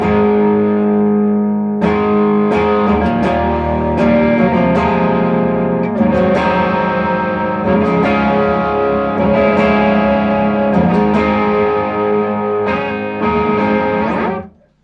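Electric guitar played through an amp with a tube screamer stage, a driven clean tone with some distortion and effects, strummed chords and riffs ringing steadily and loud for about fourteen seconds before cutting off.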